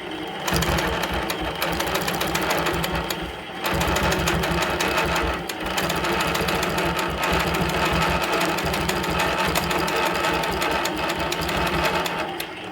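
Longarm quilting machine running steadily while stitching in the ditch along a straight ruler, a dense continuous mechanical hum with rapid needle beat, briefly pausing near the start then resuming loud and close.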